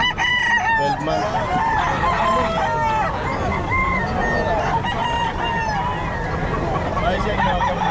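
Raptor Sweater gamefowl roosters crow repeatedly at a busy pet market in Bocaue, several loud close crows overlapping with clucking and a background hubbub of talking voices.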